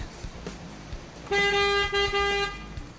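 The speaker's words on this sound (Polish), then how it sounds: "Walka na klaksony." A car horn blares in one long honk as two cars face off head-on, briefly breaking and resuming, over faint traffic noise, then cuts off.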